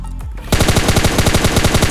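M4 rifle firing in the mobile battle game Free Fire: after a brief quiet moment, a rapid, steady automatic burst of roughly a dozen evenly spaced, loud, punchy shots.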